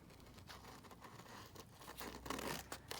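Paper being cut from a map page for a collage, a soft crinkling, tearing rustle up close that thickens toward the end, with no voices.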